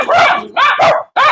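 Dogs at a dog pound in Ciudad Quesada, Costa Rica, bark loudly and close by in three or four sharp, yelping bursts with brief gaps between them.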